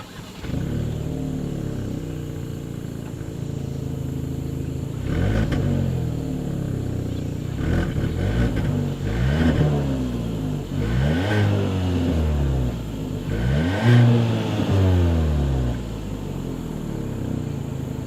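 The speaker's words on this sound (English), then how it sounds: "As always, here is that exhaust clip." A 2022 Kia Soul engine revs repeatedly, rising and falling in pitch with a deep, loud exhaust rumble throughout, no talking.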